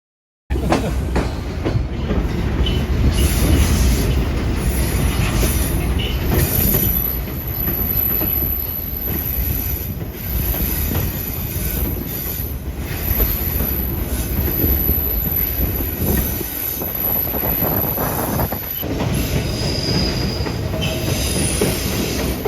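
A sightseeing train on the Skagway to White Pass summit line in Alaska rumbles steadily along its rails, with metallic wheel squeal and clatter over a loud, continuous low roar.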